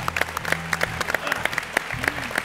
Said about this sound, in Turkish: O zaman büyük bir alkış alalım bak.